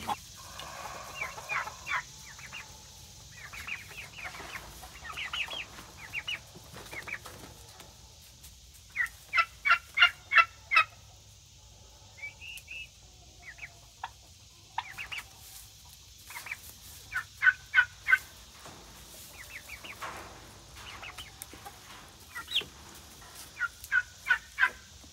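Chickens and roosters from a coop with the door just opened give bursts of clucking and throaty calls, some rapid repeated notes, rising and falling in clusters over a faint outdoor background.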